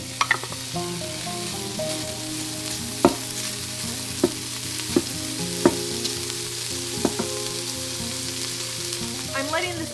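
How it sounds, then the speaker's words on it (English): Bacon browns in an Instant Pot on the saute setting with a steady, close sizzle and crackle, a few sharp pops breaking through the continuous frying hiss. "We're starting off by browning the bacon."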